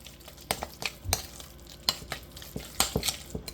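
A utensil stirs a vegan jackfruit tuna mixture with nori in a bowl or pan, making close, irregular scrapes and clicks over a faint background sizzle, with no voices.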